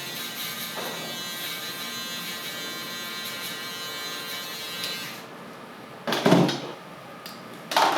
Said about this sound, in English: foil shaver.